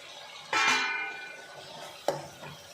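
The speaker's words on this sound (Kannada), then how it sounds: "ಟೊಮೊಟೊ ಎಲ್ಲ ಸ್ವಲ್ಪ ಫ್ರೈ ಆಗಲಿ" Tomatoes fry in a pan for methi bath: a sudden loud sizzle flares up and slowly fades, then a sharp clatter of a utensil against the pan follows, with no voices.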